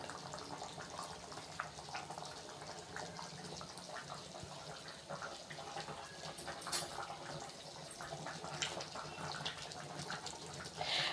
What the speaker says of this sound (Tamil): குழம்பு நல்லா கொதிச்சிட்டு இருக்கு